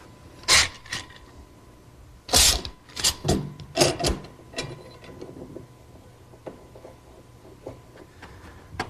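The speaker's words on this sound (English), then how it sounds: "I'll just clamp it in place until the glue dries" A clamp is tightened on a glued wood joint of a linen press cabinet, giving several short, close bursts of ratcheting clicks separated by brief pauses.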